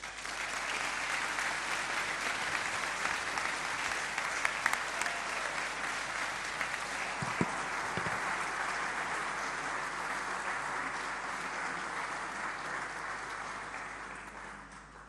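Sustained audience applause welcoming Michel Sidibe at a Global Forum for MSM and transgender advocates, a steady dense clapping from a large crowd that holds for about fifteen seconds without talk.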